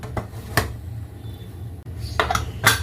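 A few hard metallic clanks as a lid is set on a pressure cooker of boiling rice for ghee rice, close by, with a low steady hum underneath.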